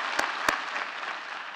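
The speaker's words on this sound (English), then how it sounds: "Let's give these dedicated individuals a hearty round of applause" Hearty round of applause from an audience at a university State of the University address, a dense steady wash of clapping with two sharp louder claps near the start, no voices.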